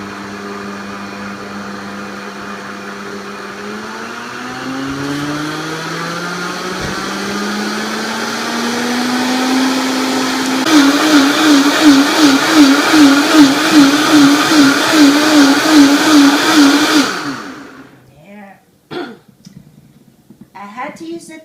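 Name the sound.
Vitamix blender running on smoothie setting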